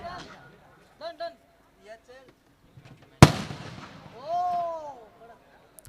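A firecracker bursts once with a sharp, loud bang during a village cricket tournament match, and its rumble fades out as a commentator talks over it before and after.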